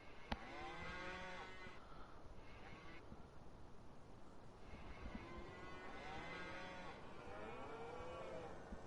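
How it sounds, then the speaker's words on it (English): Cows moo repeatedly in Farming Simulator 19 on PS4, with several long, overlapping calls rising and falling over a steady farmyard ambience and no talking. "The cows are mooing, that's a good sign."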